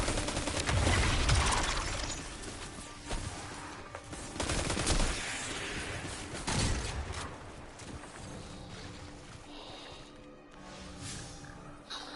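Iron Banner assault rifle fire in Destiny, dense bursts of automatic gunfire with mechanical clatter, loud and close at first and then thinning to sporadic shots and game effects.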